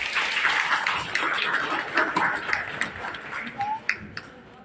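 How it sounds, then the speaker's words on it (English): Applause from an audience at a school ceremony, a dense wash of clapping that ebbs and swells for several seconds and stays moderately distant, with a few louder claps near the end. "Let us give her a round of applause."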